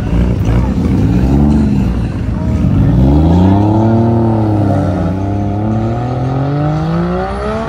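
Chevrolet SS engine revving at a rainy cars-and-coffee meet, loud and close, the note climbing and falling in long sweeps over steady outdoor noise, with people talking nearby.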